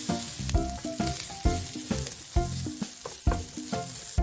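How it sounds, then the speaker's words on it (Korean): Fish cake is stir-fried in oil with minced garlic and green onion in a pan, giving a steady close sizzle broken by rhythmic scraping strokes of the spatula about every half second. "어묵을 넣고 살짝 볶아줍니다"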